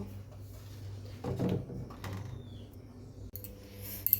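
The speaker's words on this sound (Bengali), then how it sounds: "এখন তালা খুলবো" A padlock on a house door is unlocked with a key in the morning, giving a few faint metallic clicks and a soft rattle against a quiet background.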